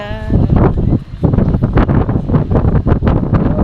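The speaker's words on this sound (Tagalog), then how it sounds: "grabe yung hangin, napakalakas kaya pakinggan nyo" Strong, cold wind in Tagaytay, Philippines buffets the microphone with loud, gusty roaring and rumbling that barely lets up.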